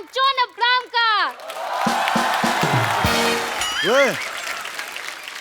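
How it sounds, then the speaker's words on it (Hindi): A television comedy studio audience breaks into loud, sustained applause to welcome celebrity guests, with cheering mixed in after a host's announcement and further talking over the clapping. "जोरदार तालियों से स्वागत कीजिए Varun Dhawan and John Abraham का।"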